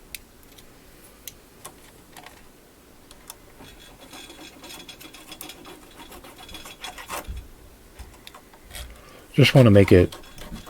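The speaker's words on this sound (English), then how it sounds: "So I'm going to switch to a file." A hand file rasps over small brass parts to smooth off burrs, soft scraping strokes close by under brief quiet talk, ending in a louder burst of rubbing.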